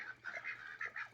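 A flock of ducks on a ranch quacking and honking in quick repeated calls, faint and somewhat distant, with a low steady hum behind them and no talking.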